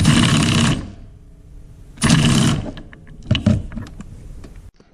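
A power tool with a 24mm socket drives a strut mount nut on a 2014 Chevy SS in loud whirring bursts, two sustained runs and a shorter stuttering one separated by pauses.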